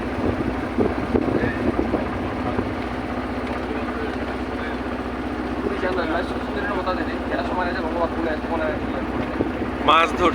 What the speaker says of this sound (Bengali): এটা আমার ট্রলার